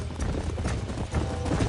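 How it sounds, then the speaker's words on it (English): Horse hooves clip-clop in a steady walking rhythm in the Western video game Red Dead Redemption, close and fairly soft, with no speech over them. "These are fine horses."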